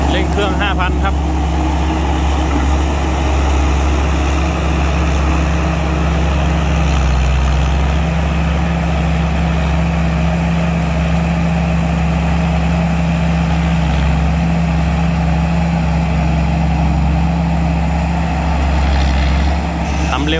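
A combine harvester's engine held at high revs, a loud steady drone with strong low hum that runs throughout, while someone talks over it.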